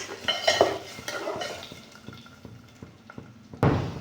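Ground raw tomato paste being poured and stirred into a pot of pepper-cumin rasam, with wet plops and metal utensil clinks against the pot, a louder scraping clatter near the end, no talking.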